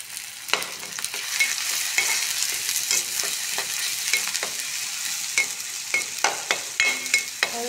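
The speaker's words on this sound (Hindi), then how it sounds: "सारी चीज़ों को अच्छे से भून ले रही है।" Spices and coriander powder sautéed in a pan for a vegetable dish with torai flowers, a steady sizzle broken by frequent sharp scrapes and clinks of a spoon stirring against the metal.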